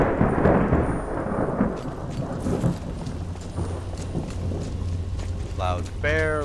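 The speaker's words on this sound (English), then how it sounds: "loud thunder" Thunder rumbles through Skyrim, a loud, deep crash that rolls and fades over several seconds under steady rain, with a voice talking briefly near the end.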